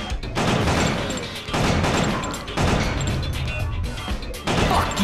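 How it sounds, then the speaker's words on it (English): Gunfire in the video game Killer 7 comes as loud repeated bursts of booming shots, several heavy volleys in a row with brief gaps between them. "You shoot him in the arm a couple times, he spins around and you shoot him in the back."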